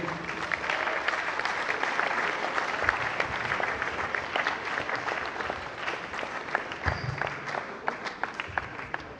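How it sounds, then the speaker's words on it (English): Audience applause at a tech event, a dense wash of many hands clapping steadily and fairly loud throughout, with a few sharper individual claps standing out. "let us give him a round of applause"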